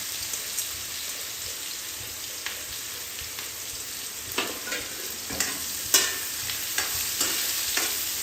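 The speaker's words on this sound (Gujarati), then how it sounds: "હવે ત્યારબાદ આપણે જે ડુંગળી સમારેલી છે ને તે ડુંગળી એડ કરી દઈશું." Chopped onion sizzles steadily in a hot pan, a constant close frying hiss with occasional scraping knocks of a spoon stirring, growing a little more frequent toward the end, no talking.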